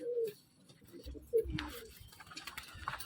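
Pet pigeons coo in short, low, throaty bursts near the start and again around the middle, with soft wing patter and rustling as the birds are let out to fly.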